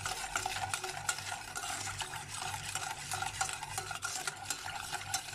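Milk, sugar and flour stirred together in a pan, a steady, continuous scraping swish of the spoon with soft rhythmic strokes, close and moderately loud, no talking.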